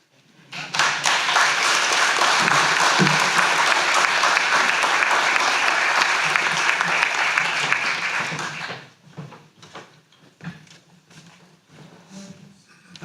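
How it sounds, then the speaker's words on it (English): An audience at a business summit applauds loudly and evenly for about eight seconds, then the clapping fades into scattered claps and quiet room noise. "big round of applause"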